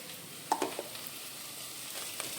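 Ginger, garlic and onion paste with tomato and a dried red chili frying in oil in a pan, giving a faint, steady sizzle with a few soft clinks of stirring near the start.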